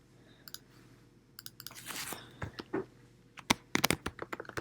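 Quick, sharp computer mouse clicks, some in tight bunches, sound close against a faint background hum while a Photoshop file is being saved.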